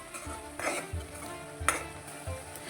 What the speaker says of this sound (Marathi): थोडा चांगला परतवला भाजून झाला की छान तरंग येते